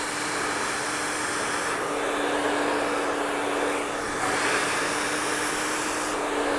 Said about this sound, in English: Making sure that that hair is drying from the roots first, then the mid-lengths, and then the ends.